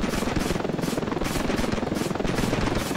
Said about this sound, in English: Okay, the enemy helicopter's up.